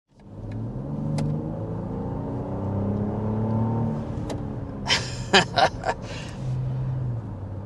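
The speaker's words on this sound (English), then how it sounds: "So with a quick punch of the accelerator, you're already above 50 miles per hour." A 2024 BMW X7 or 2024 Mercedes GLS large three-row luxury SUV accelerates hard, its engine drone climbing steadily in pitch and staying close and prominent, followed by a few brief sharp clattering bursts near the end.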